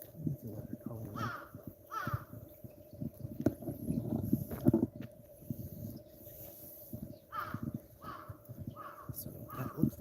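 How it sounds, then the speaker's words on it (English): Crows cawing repeatedly from a distance in short bursts, mixed with rustling and low handling noise close by, on a morning walk near a hill trail in Daigo, Japan. "There's a lot of crows."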